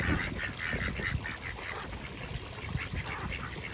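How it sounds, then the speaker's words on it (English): Several ducks quack repeatedly at a moderate distance on a pond, a busy, overlapping chatter of short nasal calls with no voices. "What sound do ducks make? Quack, quack, quack, quack."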